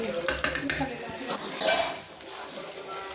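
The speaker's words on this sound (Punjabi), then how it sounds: "ਫਿਰ ਇਹਨਾਂ ਨੂੰ ਚੰਗੀ ਤਰ੍ਹਾਂ ਮਿਕਸ ਕਰਨ ਤੋਂ ਬਾਅਦ ਫਿਰ ਅਗਲੇ ਡਰਾਈ ਫਰੂਟ ਪਾਵਾਂਗੇ" Spoon scraping and clinking against a pan while panjeeri with dry fruits is stirred, a few quick close metallic knocks and scrapes, fairly soft, then a faint scraping tail.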